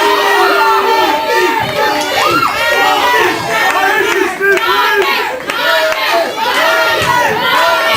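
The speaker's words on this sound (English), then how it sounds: "Cheer all you want." Loud, dense roar of a crowd at a live wrestling event, cheering and shouting continuously, with a voice speaking over the noise throughout.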